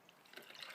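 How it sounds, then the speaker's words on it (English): Chilled cold press coffee is poured into a glass, a faint, soft liquid trickle that grows slightly fuller over a brief moment, with no talking. "I'm going to go ahead and pour mine up"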